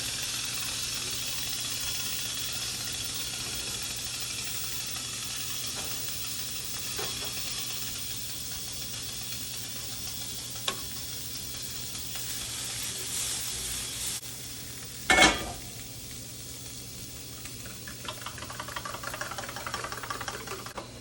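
Vegetables for a Spanish tortilla frying in a pan, a steady close sizzle and hiss running throughout, with a few faint clicks and one brief clatter of a utensil partway through.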